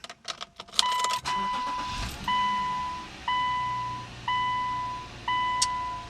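A Subaru Outback 3.6 engine cranks and catches after an oil change, settling into a low idle while a sharp dashboard warning chime repeats at a steady pace overhead.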